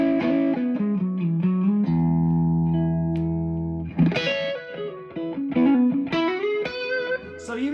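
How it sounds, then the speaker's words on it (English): Electric guitar played through a pedalboard with heavy echo and reverb, loud and close, picking melodic lines with a long sustained chord ringing out midway before the phrases resume, repeats trailing behind each note. "You hear it's got a lot of echo on"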